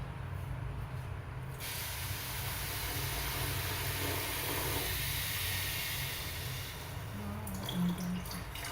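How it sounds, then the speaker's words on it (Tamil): Steady hissing, splashing water being poured onto sugar for badusha syrup, continuous and close, with a brief clink near the end. "இந்த சீனி மூடுற அளவுக்கு தண்ணி ஆட் பண்ணிக்க போகிறேன்"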